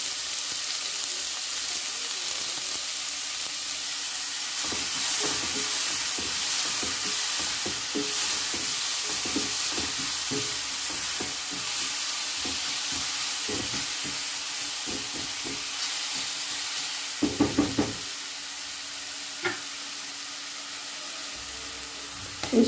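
Fennel seeds and sliced onions fry in hot oil for pepper chicken, a loud continuous sizzle close by, broken by bursts of stirring and scraping in the pan and a few sharp clanks near the end, with no talk.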